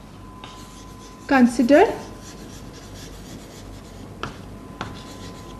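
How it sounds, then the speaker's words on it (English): Marker or pen writing out a quadratic equation on a board, a short burst of squeaky strokes followed by a couple of faint taps, with a voice speaking around it. "So I'll write it down."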